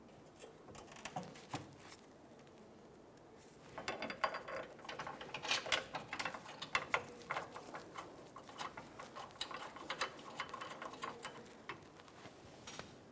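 A ratchet snugs a fuel tank strap bolt under a 2004-2008 Ford F-150 with a 5.4L V8, giving quick clicking bursts of varying density over a faint background, nearby and moderately quiet.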